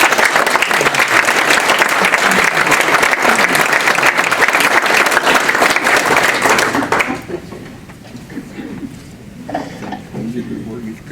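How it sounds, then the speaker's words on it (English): Loud, dense audience applause at an alumni awards ceremony, continuous clapping for about seven seconds before dropping sharply to quieter scattered room noise and a few last claps. "Please give them a round of applause."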